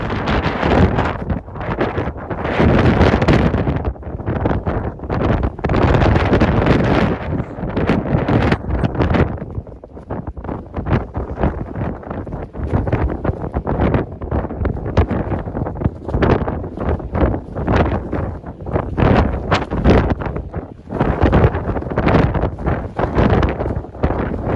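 A strong windstorm batters a small tent at a solo wild camp in the Peak District, with loud, gusting roars and flapping fabric surging and easing again and again, close and almost continuous.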